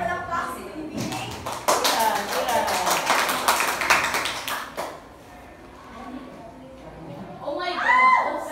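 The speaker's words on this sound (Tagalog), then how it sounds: "Bigyan ang maulan na palakpak si Binibining" A small audience applauds after a student's report presentation, with scattered, uneven clapping rising suddenly and fading after a few seconds, followed by voices talking.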